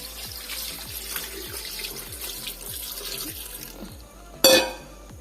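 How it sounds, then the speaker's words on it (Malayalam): Water is poured into a pot of beef bones seasoned with turmeric and salt for a bone curry. A steady, close, running-water stream ends in a sharp splash or clatter, with no talking. "ഇതിലേക്ക് ആവശ്യത്തിനുള്ള വെള്ളവും ഒഴിച്ചു കൊടുക്കാം."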